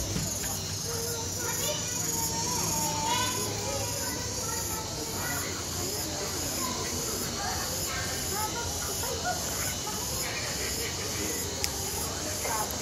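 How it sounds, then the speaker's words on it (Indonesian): Cicadas (tongeret) in a forest near a restaurant give a continuous shrill, hissing drone, with people talking over it throughout. "Kalau ini si tongeret deh kayaknya"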